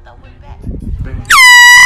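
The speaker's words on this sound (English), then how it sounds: "This guy drops his gadget when his friend blows an air horn at him." A loud air horn blasts suddenly at close range as a prank on a friend, cutting in after brief muffled shuffling and lasting steady to the end.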